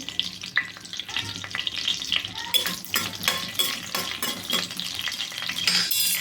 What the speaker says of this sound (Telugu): ఆయిల్ అయితే హీట్ అయిందండి ఇంకోటి చెక్క లవంగం యాలుక్క ఇవైతే వేసేసుకోవాలి